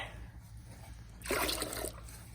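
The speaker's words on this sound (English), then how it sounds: "I'm going to collect the water in this bucket" Water pours into a bucket outdoors, a brief rushing splash that starts suddenly partway through and runs for about half a second before easing off, fairly close but moderately quiet over a low background hum.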